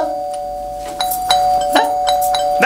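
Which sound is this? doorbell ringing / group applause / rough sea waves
doorbell ringing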